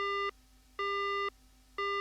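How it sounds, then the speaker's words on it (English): Phone-call disconnect busy tone in the video game Spirit Hunter: NG, a clean electronic beep pulsing on and off in an even rhythm, about three half-second tones separated by short gaps. "The call disconnects."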